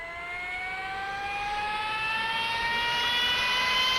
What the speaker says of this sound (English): Now, I have to turn on my engine.